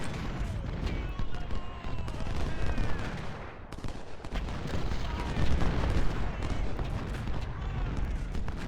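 Civil War artillery and musket fire from the Gettysburg battle in the strategy game Ultimate General, a dense continuous rumble of overlapping booms and crackling volleys that keeps going for the whole stretch.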